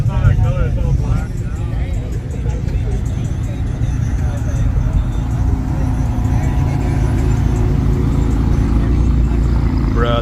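A slammed Corvette C8 with an aftermarket exhaust rumbles at a Cars and Coffee meet at Six Flags, its low engine note steady under nearby people talking over it for the whole stretch.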